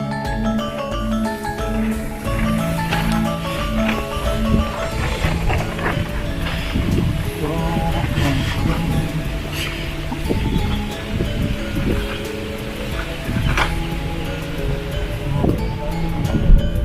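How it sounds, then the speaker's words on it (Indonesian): Strong wind sweeps across an outdoor archaeological excavation site, a steady roaring rush buffeting the microphone, with faint voices of people talking intermittently beneath it. "Anginnya cukup besar ya sekarang."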